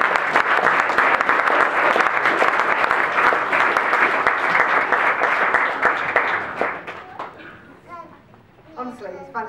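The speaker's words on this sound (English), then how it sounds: "big round of applause" Audience applause at a Hilton 50th celebration, a full roomful of clapping that holds strong for several seconds, then dies away as a voice begins speaking over the tail.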